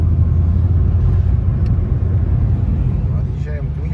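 A car pulls away, its engine a loud, steady low rumble that holds throughout, with a voice talking over it.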